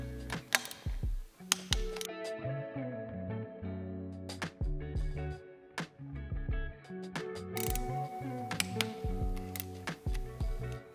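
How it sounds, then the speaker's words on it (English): Ratcheting wrench torquing supercharger mounting bolts on a Rotrex kit install, rapid clicking bursts in repeated short strokes with brief pauses between, close and clear with no talk. "Lastly, of course, we have to torque the bolts."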